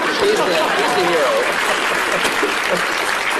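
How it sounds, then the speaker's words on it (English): Studio audience at a late-night talk show interview bursts into loud, sustained applause and cheering, a dense wash of clapping that fills the whole stretch while voices speak faintly underneath. "You can applaud him."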